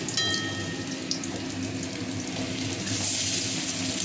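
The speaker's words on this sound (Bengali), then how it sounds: "দুই পিঠ ভালো করে ভেজে নিতে হবে।" Cauliflower muitha dumplings fry in a pan with a continuous close crackling sizzle, like light rain on a surface, steady throughout with occasional brief high tones and no talking.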